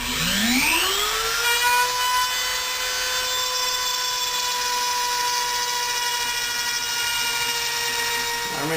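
A Dremel rotary tool whines steadily at high speed while cutting into an acoustic guitar soundboard, spinning up at the start and holding a loud, constant pitch with bright harmonics throughout.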